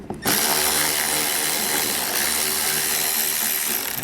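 A ratchet tool loosening 7mm head screws underneath a 2019 Chevrolet Equinox gives a loud, continuous mechanical whirring close by, running almost without a break after a brief start.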